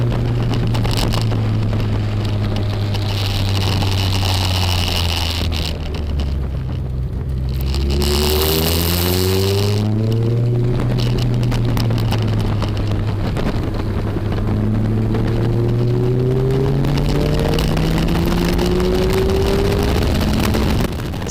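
Race car lapping Cadwell Park at a VX220/Lotus owners club track day, its engine roaring loud and close as it accelerates and climbs through the gears, with rising sweeps after each shift and no talk.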